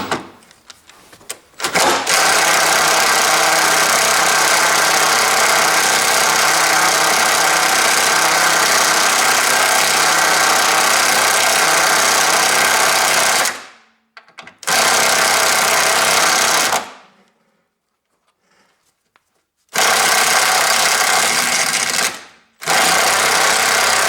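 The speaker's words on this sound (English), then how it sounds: "I use my electric impact driver also" An electric impact driver works on a car or truck front suspension bolt, hammering loud and close in long continuous bursts that stop and start several times with short silent gaps between.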